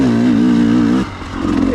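A KTM 300XC-W carbureted dirt bike fitted with an RK Tek head climbing a steep hill: a loud, close engine drone that wavers steadily, dips suddenly, then builds again, with no speech.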